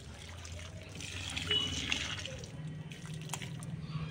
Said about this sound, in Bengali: তো আমরা এখানে জল দিব এখন